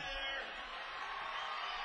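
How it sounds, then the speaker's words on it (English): Hockey crowd at a Des Moines Buccaneers game cheering and whooping, a dense, steady roar of many voices filling the arena, continuous and moderately distant. "This crowd getting a bit noisy here."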